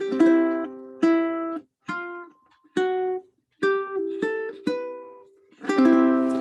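Slow guitar strums ring out one at a time with short gaps, then picked notes and a final fuller strum, close and clear with no voices.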